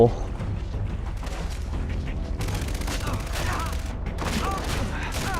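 Far Cry 3 gunfire, sustained and dense, with heavy low booms and sharp cracks over a constant rumble. Bursts intensify in the second half.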